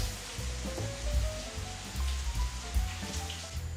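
Food warms in a frying pan with a soft, steady sizzle and crackle that rises and falls, quiet and close, with no talking.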